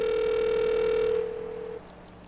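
A steady electronic telephone ring tone, sustained and fairly loud, then cut off, leaving quiet room tone.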